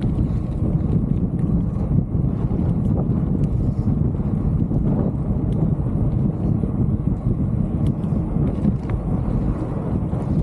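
Steady, strong wind buffets the microphone throughout, a constant low roar with a faint rumble beneath it and no voices.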